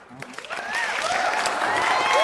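Audience applause at a running community gathering in Makassar builds into a steady, dense wash of clapping, with voices mixed in close by.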